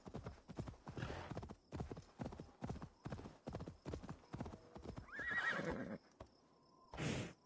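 Horse hooves clip-clop in a steady, regular rhythm while riding in Assassin's Creed Valhalla, a brief whinny breaking in near the end amid quieter game ambience.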